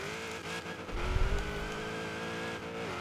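Ford De Luxe racing off-road in Forza Horizon 3, a loud steady engine drone with a rumbling low-end surge and bump around the middle, sustained tone throughout.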